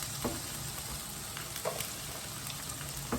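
Onions frying in a pan give a steady close sizzle, with a few soft clicks of stirring spread through the stretch and no voices.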